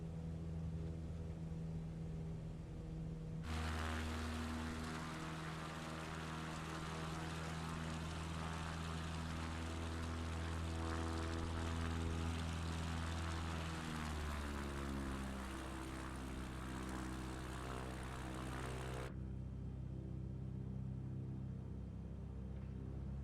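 A light aircraft engine at full power during a touch and go in São Paulo, a loud steady propeller drone that rises in pitch and holds for about fifteen seconds before cutting back to quieter cabin noise.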